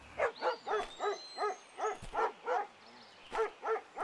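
Stray dogs barking in the zombie survival game Into The Dead 2, about a dozen evenly spaced, fairly loud barks in a steady rhythm against a quiet background with faint whistling tones.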